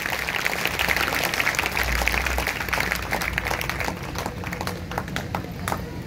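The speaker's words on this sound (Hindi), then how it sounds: "अगर आए तो जोरदार तालियां बजाएंगे" A church congregation claps loudly and steadily during a Sunday service, a dense sustained wash of applause that fills the space with some voices mixed in.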